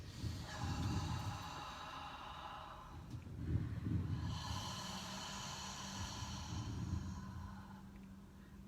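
A group breathing in and out together in a meditation session in Tampa, Florida, makes long airy inhalations and exhalations, and some exhales carry a sustained group hum.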